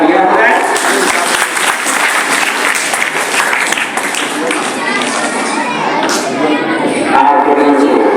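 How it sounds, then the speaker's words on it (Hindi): Loud, dense applause from a large crowd at a school event at an inter college in Azamgarh, sustained steadily for several seconds, with faint voices mixed in. "एक बार जोरदार तालियां बजाएं।"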